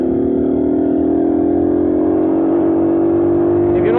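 A loud, steady engine drone holds one pitch, then begins to rise at the very end as the motorcycle starts to accelerate.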